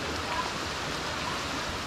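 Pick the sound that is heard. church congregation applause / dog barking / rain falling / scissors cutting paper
rain falling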